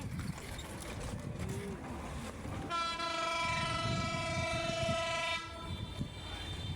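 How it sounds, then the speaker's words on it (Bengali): Rumbling of a goods train on the Joydebpur line, with a long, steady horn blast sounding for a few seconds before cutting off, the rolling rumble continuing underneath. "ট্রেন আসছে, ট্রেন চলছে চলছে, ট্রেন চলছে।"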